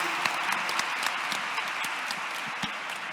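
An audience in a classroom claps steadily for a few seconds, a dense, fairly loud patter of many hands with a few sharper individual claps.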